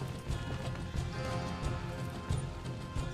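Steady clip-clop of horse hooves at a gallop in a video game, fairly loud and continuous, with rhythmic low thuds over a rumbling background.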